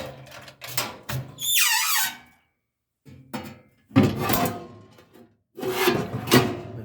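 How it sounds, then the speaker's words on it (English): The metal ash door of a gravity-fed charcoal smoker is worked open, giving several scraping, rubbing and squeaking bursts with short pauses between them, heard up close. "Door to get the ashes out."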